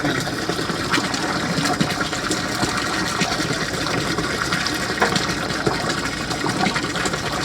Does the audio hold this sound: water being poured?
yes